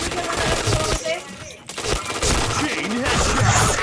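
Video game gunfire landing headshots, a loud burst of sharp rapid shots with a brief lull midway and then more dense firing over busy game sounds.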